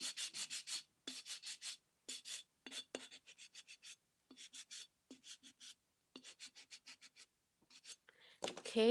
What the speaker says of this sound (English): I want to make it look a little bit rustic, so I'm going to sand it